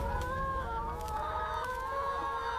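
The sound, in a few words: chickens and roosters clucking on a poultry farm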